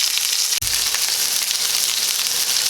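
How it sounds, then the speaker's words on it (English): Five spice chuck roast browning in a pan, a steady bright sizzle and crackle of frying meat throughout, close and even, with one short clunk near the start. "I'll let this finish browning up"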